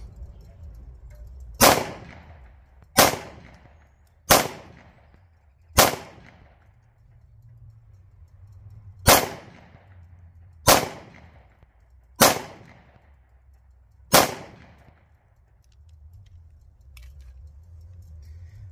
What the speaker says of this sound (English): We're gonna shoot about 20 something feet away.